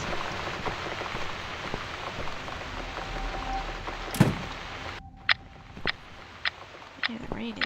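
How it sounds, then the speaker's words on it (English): Heavy rain pours down in The Cat Lady video game, a steady hiss broken by scattered clicks and knocks, with a person talking over it. "the rain is really coming down"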